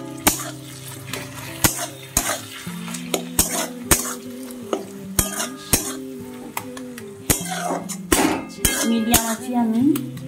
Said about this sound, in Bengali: আমি রসুনটা কিছুক্ষণ ভেজে নেব।